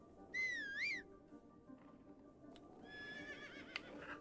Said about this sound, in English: I'm guessing that she's neighing a lot because she keeps hitting walls.